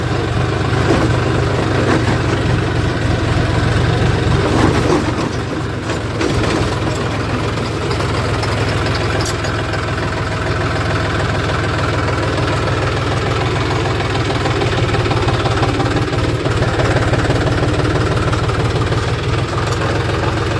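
A tractor engine idles loudly and steadily nearby, a constant low rumble with a slight knocking texture that barely changes throughout.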